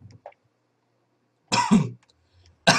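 Short harsh coughs from a person nearby, one faint burst at the start and then two loud, throaty coughs about a second apart in an otherwise quiet room.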